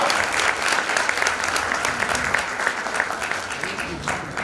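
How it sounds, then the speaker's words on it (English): A conference audience at an English-language teaching event applauds with steady, full clapping that stays loud and even throughout, with a faint crowd murmur underneath. "Please give a big applause for Andy."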